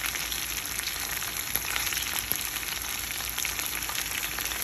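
Oil-fried masala chicken, Kerala style, frying in hot oil, giving a steady, even sizzle and hiss throughout with no voices.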